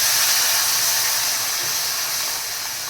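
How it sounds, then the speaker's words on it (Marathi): Semolina roasting in hot ghee for a thick kheer gives off a loud, continuous sizzling hiss as warm milk is poured in, steady and close with no talking. "आता इथे मी दूध ॲड करणार आहे।"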